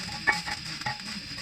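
Slow frying over low heat in a pan: a soft, quiet sizzle under a couple of brief stirring scrapes, heard up close with no speech.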